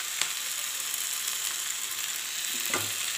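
Partly boiled tapioca is stirred into sautéed onions in a pan, giving a steady, even sizzle with a couple of soft stirring scrapes, close and alone without talk.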